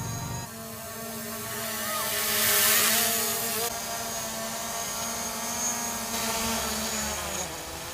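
A DJI Mavic Pro drone hovers nearby, its rotors giving a steady high-pitched whine with a buzzing tonal hum that swells slightly as it moves, outdoors with no talking.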